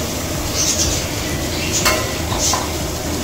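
Five cut tomatoes go into a pan of frying ginger and garlic for quail biryani and are stirred, producing a continuous close sizzle with scraping and occasional spoon-on-pan clinks, with no talking.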